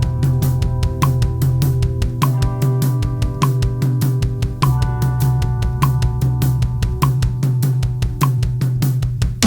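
A fast, even stream of drum hits mixes crisp hi-hat ticks with low kick thuds, repeating in a tight, driving pattern without any talking.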